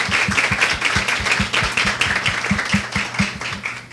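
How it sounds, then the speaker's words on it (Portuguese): Applause from an audience at an event against violence toward women: a smaller group clapping in uneven, distinct rhythmic claps, fairly close and loud, with no talk. "eu queria uma salva de palmas para a Juliana pela coragem que ela teve"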